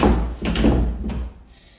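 Double doors of a linen closet in a show home being opened, a couple of close thudding knocks and a short rattling clunk of the doors, with no talk.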